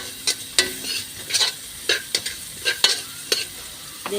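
Garlic and ginger sauté in butter in a pan while a utensil stirs them. Sharp scraping strokes come in an uneven rhythm over a light, close sizzle.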